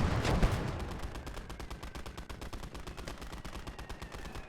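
A machine gun in a WWII real-time strategy game fires a long, steady stream of rapid, evenly spaced shots after a louder opening blast, continuing without pause at moderate distance.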